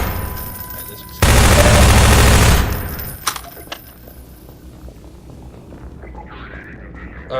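Gunfire aimed at a helicopter in the video game Half-Life 2 booms out in one loud, dense burst lasting about a second, then gives way to fading rumble and a few faint knocks.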